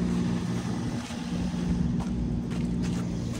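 A vehicle engine running to charge a battery for another vehicle, a steady low drone that holds without change, slightly distant, with light wind rumble over the microphone and no voices.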